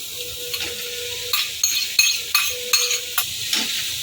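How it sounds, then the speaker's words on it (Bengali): Pieces of catla fish are stirred into onion, garlic and spices frying in a pan, with a steady sizzle beneath repeated scraping strokes of a spoon, close and moderately loud. "মশলাগুলো দিয়ে ভালো করে ভেজে নিয়েছি এখন এই বেছে রাখা মাছটা এর মধ্যে দিয়ে দেব"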